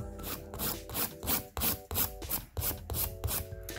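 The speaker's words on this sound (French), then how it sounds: "Et je tiens ma lime un peu inclinée comme ça." A handheld nail file rasps across a gel nail held at a slight angle in a series of quick, close, rhythmic back-and-forth strokes, each one sharp and scratchy and heard alone.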